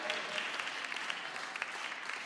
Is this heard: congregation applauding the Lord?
yes